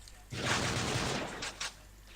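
An M14 EBR rifle fires in a video game, a dense burst of loud close shots for about a second followed by two quick separate cracks, with faint voice in the background.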